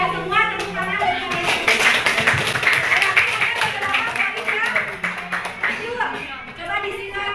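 Classroom applause from students in a positive-discipline lesson, a dense continuous patter of hand claps mixed with children's voices and chatter throughout.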